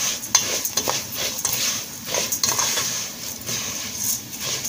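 White rice being stirred in a pot as it toasts golden, with repeated spoon scrapes and light clinks over a faint sizzle, close and moderately quiet, no talk.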